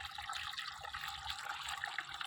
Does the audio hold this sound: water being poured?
yes